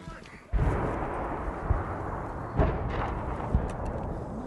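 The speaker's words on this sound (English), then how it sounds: "Russian shells were very close." Russian artillery shells explode close by in a wartime evacuation area, a sudden heavy blast followed by rumbling and further thuds at intervals, with voices faintly present under the noise.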